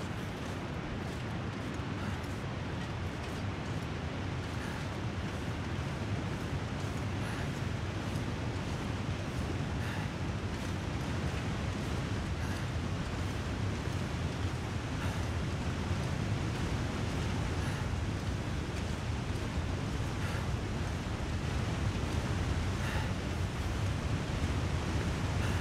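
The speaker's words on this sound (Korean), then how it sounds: "폭포 소리가 들려." A waterfall roars as a dense, steady broadband rush of falling water, continuous and unchanging for the whole stretch, with no voices.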